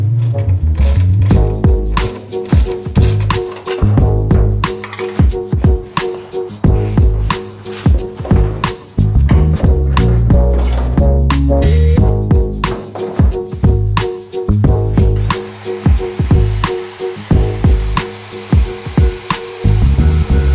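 A power tool cuts through metal bumper brackets for an HX One Tonner build, a loud, close, continuous grinding whine with rapid rhythmic pulses that pause briefly before resuming.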